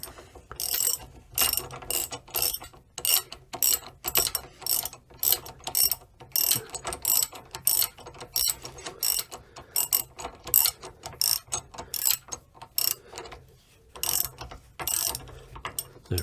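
Ratcheting socket wrench tightening a fitting during a reseal of an 1870s CO2 Giffard rifle, close and crisp: rapid bursts of ratchet clicks in repeated strokes with short pauses, no talking.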